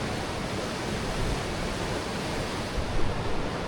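Broadband wash of surf breaking onto a sandy beach in the Scottish Highlands, a steady close roar with a slightly fuller surge near the end, no voices.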